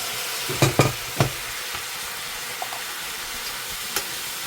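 Dried anchovies stir-fried in a pan: a steady sizzle and hiss, punctuated by a few sharp scraping clicks of stirring.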